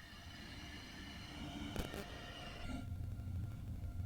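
An ICE 3 (DB BR 406) high-speed train runs along the Cologne high-speed line in Train Sim World, with a steady low rumble and rolling drone, a brief clatter midway, and a heavier rumble toward the end.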